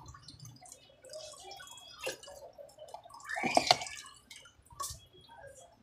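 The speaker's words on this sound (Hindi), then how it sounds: "अब इस पे हम ये ठंडा पानी डालेंगे ताकि ये आपस में चिपके ना।" Cold water poured over strained sago in a kitchen, a thin splashing trickle with drips and a brief louder gush midway, fairly close.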